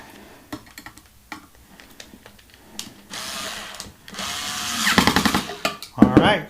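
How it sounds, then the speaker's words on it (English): Pliers tightening a nut on a bolt while a 30W solar panel is installed, metallic clicks and scraping that build into louder grinding, ratcheting bursts near the end. "I'm going to hold the bolt, the nut, and tighten it up."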